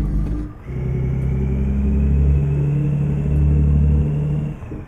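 Fuso truck in Euro Truck Simulator 2, hauling sugarcane bagasse on a steep extreme route, its engine droning loud and steady with a low rumble as it accelerates, then easing off at the end.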